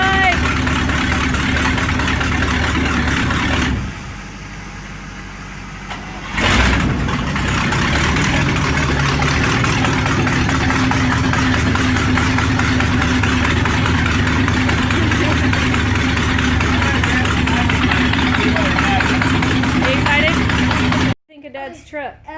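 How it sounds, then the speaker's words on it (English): An old 1968 International pickup truck, freshly brought back to running, idles with a loud, steady, close rumble that dips briefly early on, then cuts off abruptly near the end. "my husband just got his new truck running, which is actually an old truck"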